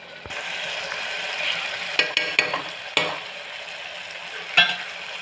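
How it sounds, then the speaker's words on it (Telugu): Tamarind frying in a pan for Karnataka-style idli sambar, a steady soft sizzle with occasional clicks and scrapes of a stirring spoon against the pan, no talk. "ఈ చింతపండు అనేది కొంచెం దగ్గర రావాలి, ఫ్రై అవ్వాలన్నమాట"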